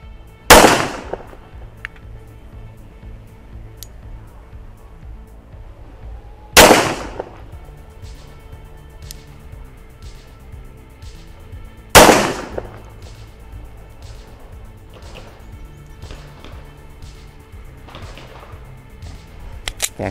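A brand-new Colt Gold Cup Trophy pistol fires three loud, sharp shots at a target, spaced roughly five to six seconds apart, each ringing briefly before quieter clicks and handling sounds fill the gaps.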